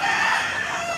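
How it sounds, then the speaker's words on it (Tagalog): A large Cantonese-breed rooster crows nearby in one loud, sustained call filling the whole moment, with no talk over it. "Po sila ang manok ko rito malalaki. May lahi na silang Cantonese,"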